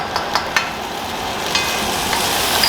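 Browned onions and freshly added garlic frying in oil for wild goose barbacoa, a loud steady sizzle punctuated by a few crisp spoon scrapes, with no speech.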